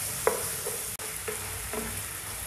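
Red chili, turmeric, coriander and cumin powders fry lightly in a pan for a chicken handi, giving a steady soft sizzle with a few scrapes of stirring.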